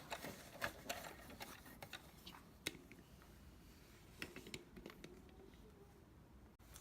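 A home sewing machine stitching a throw pillow seam, running back a few stitches and then forward: a quiet, close, continuous whirring stitch rattle with a short stop near the end.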